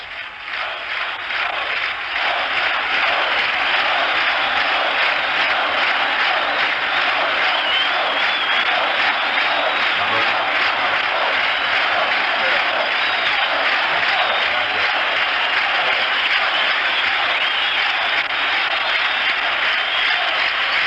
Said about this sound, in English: Applause, the staccato applause, and go Sox go.